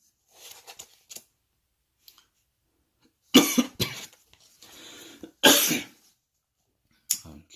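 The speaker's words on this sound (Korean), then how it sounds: "기침 멈추질 않네." Several sharp coughs, a few faint ones at first, then loud harsh bursts at close range, separated by short pauses.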